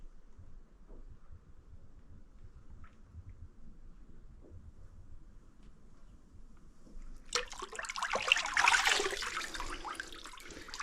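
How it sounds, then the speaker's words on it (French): A BMW R1100 RT motorcycle part being lowered into a hydrodipping water tank: quiet background, then a soft, sustained watery swish and splash of moderate loudness near the end. "Donc là, je vais plonger la pièce. On essaie de plonger au mieux."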